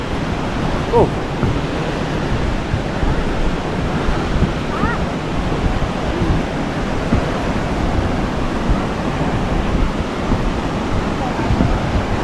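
Loud, constant roaring wind and rushing floodwater fill the air at Khlong Lan Waterfall. Heavy buffeting hits close to the microphone, and a brief exclamation breaks through.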